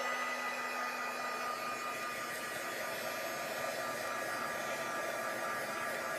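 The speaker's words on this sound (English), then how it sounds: "I heat set my image with my heat gun so that the ink won't smear when I color." A heat gun heat-sets freshly stamped ink on a glassine bag, giving a steady, loud, unbroken blast of rushing air with a high motor whine that holds constant from start to finish.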